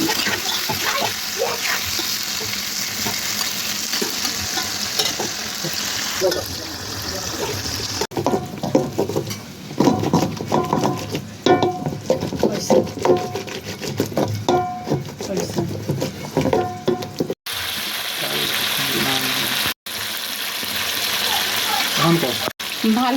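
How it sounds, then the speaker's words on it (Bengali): Sliced onion and garlic sizzle in hot oil with turmeric powder, a steady crackling fry with stirring scrapes, briefly interrupted by pauses. "একটু হলুদের গুঁড়ো দিয়ে ভালো করে ভাজতেছি পেঁয়াজটা রসুন দিয়ে দিলাম"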